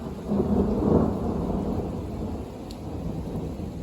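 Thunder rolls in a deep, swelling rumble during an evening lightning storm, fading slowly beneath a steady hiss of falling rain.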